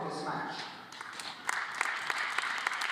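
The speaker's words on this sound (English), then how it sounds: "One big round of applause for all the athletes" An audience at a European championship shooting match applauds the athletes, with scattered claps growing into a fuller ripple midway, heard at moderate distance beneath a voice over the venue's sound.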